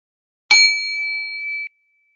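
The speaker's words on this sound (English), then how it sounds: "with the sound of that bell" A single bright meditation bell strike rings out alone, its clear tone sustaining and slowly fading before cutting off into silence.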